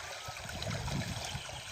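Rainwater splashing and flowing after two days of heavy rain, a steady close rushing and gurgling trickle with low churning, alone without talk.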